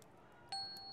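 A short, bright chime rings once in the Escape Academy video game, clear and ringing briefly, with faint background noise around it.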